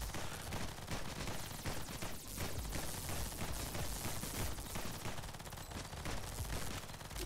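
Rapid automatic fire from a sniper rifle turned into a flak cannon in the video game Nimrod's Guncraft Survivor: a relentless, loud, dense stream of shots with heavy low thumps throughout.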